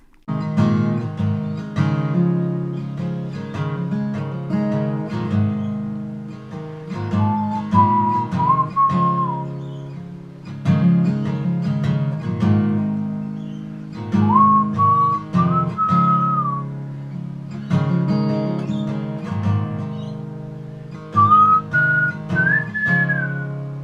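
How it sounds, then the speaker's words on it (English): A whistled melody rides over a full band backing track in a song, rising in short phrases that repeat several times across the song. "I didn't even think about the whistling part."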